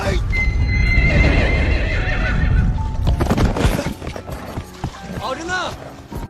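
A horse ridden across a field in a film scene, heavy hoofbeats and rumble under a loud, sustained whinnying neigh, followed by sharper hoof clatter and a second shorter neigh near the end.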